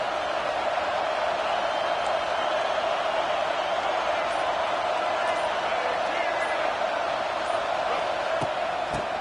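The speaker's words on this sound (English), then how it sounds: "This crowd trying to make life miserable for this offense." A big stadium crowd at a Florida Gators football game roars in a steady, dense wall of noise, loud and continuous throughout.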